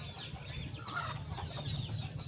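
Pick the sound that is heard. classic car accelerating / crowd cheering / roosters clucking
roosters clucking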